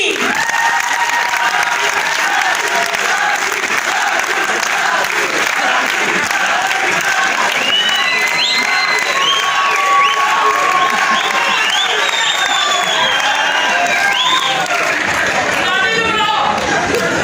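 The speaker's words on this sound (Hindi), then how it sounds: "आपकी तालियां हैं" A large audience at a stage drama show claps continuously and loudly, with scattered cheers and crowd chatter mixed into the steady applause.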